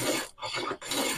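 A wooden hammer handle rough-shaped by hand, three close, harsh rasping strokes separated by short pauses as the tool scrapes along the wood, with no talking.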